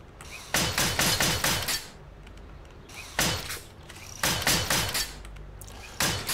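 Hammering on a wall under construction in the video game 7 Days to Die, in bursts of rapid repeated knocks with pauses between, fairly close, with no talking.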